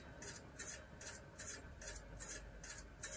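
A disc brake grinds with a rough, rasping scrape that pulses about twice a second in a steady rhythm, each stroke close and moderately loud, with no voices.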